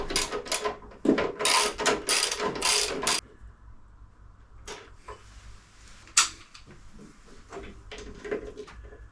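A hand ratchet loosening the petrol tank mounting bolts on a 1942 Harley Davidson WLA, with rapid bursts of clicking followed by scattered metallic clanks and knocks, close by.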